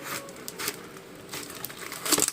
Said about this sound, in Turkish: makasla açacağım arkadaşlar